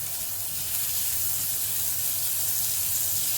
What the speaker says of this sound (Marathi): आपण तव्याला बटर लावून घेऊया.